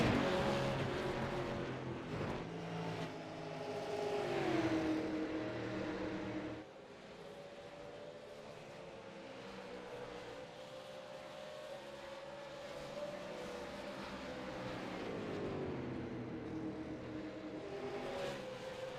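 Short-track race cars roar past at Iowa Speedway, their engine tones rising and falling as they pass at a distance. The sound is fairly faint and continuous, with a brief drop partway through, and a commentator talks over the engines.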